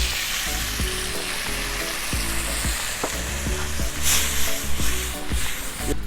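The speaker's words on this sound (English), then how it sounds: "So let that sugar and butter kind of caramelize." Precooked yams frying with sugar, butter and Korean chili sauce in a hot pan, a loud constant sizzle broken by repeated clinks and scrapes of stirring.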